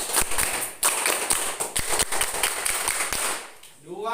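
A school class performs the rhythmic Indonesian scout clap, a patterned series of sharp group claps close by, ending with a brief voice.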